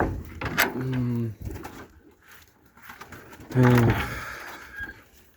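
Pigeons kept by a Ukrainian breeder selling his birds give two clear, close, throaty coos separated by a pause, with faint rustling between them.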